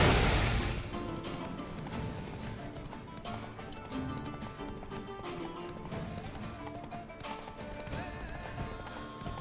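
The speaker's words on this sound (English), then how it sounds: "Mira, mira, mira, mira el caballo." Horse hooves clip-clopping in The Witcher 3 video game, a steady rhythm of hoofbeats running under a dense layer of game music and ambience, moderately loud throughout.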